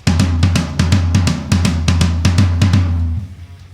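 A quick, steady drum pattern pounding on a single low floor tom, with close, booming repeated hits in even rhythm before stopping.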